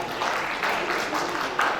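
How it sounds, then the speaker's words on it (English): Brief applause at a mental health sensitization workshop, a crowd clapping in a moderately dense, somewhat distant patter that rises and falls over a couple of seconds. "Applause once again for him."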